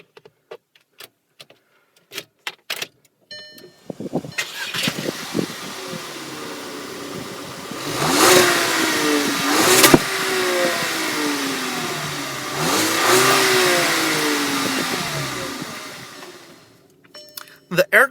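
A 2013 Volkswagen Tiguan with a 2.0-liter four-cylinder turbo engine starts after a few clicks and runs near the listener, revving up twice to a clear rise and fall before settling at idle, with a voice talking over it.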